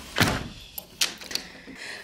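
A door is pulled shut indoors on a cold evening, giving a soft thud followed by a couple of lighter clicks and rattles from the latch, close by with faint room noise around it.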